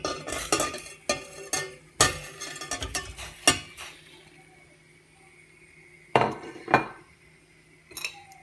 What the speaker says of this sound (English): I'm going to give that a stir around.